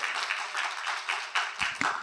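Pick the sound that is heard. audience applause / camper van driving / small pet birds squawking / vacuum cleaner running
audience applause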